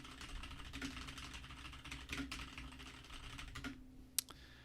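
Rapid clicking keystrokes on a mechanical keyboard, quiet and steady with a few louder accented taps and one sharp click near the end, set against a faint background hum.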